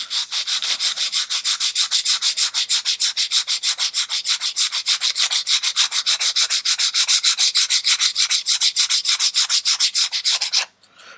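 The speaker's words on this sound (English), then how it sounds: "we're just going to sand it back using a medium grit to start with, just to take it down to the wood level" Medium-grit sandpaper rubbed back and forth by hand over the wooden hull of an HM Sherbourne ship model, a fast, steady, evenly spaced scratching rhythm, close and loud, continuing without a break for about ten seconds with no voices.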